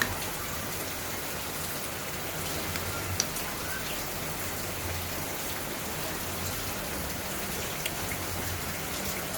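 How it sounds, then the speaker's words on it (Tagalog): Steady rain falling, leaking indoors, a dense even hiss of drops with occasional louder taps, no voices. "pabugso-bugsong ulan. Tumutulo na rito sa loob namin"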